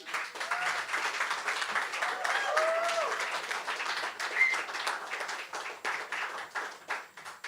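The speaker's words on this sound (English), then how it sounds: "Round of applause to all our poetas" Audience applause after a poetry reading at a screening event, a steady, dense round of clapping sustained throughout with faint voices and cheers mixed in.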